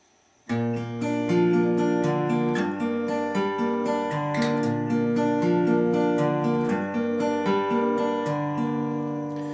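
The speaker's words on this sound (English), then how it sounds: "This is the finger-picked part, and the intro sounds like this." Acoustic guitar played fingerstyle, a steady flow of plucked notes over a low bass line, clear and close with no voices.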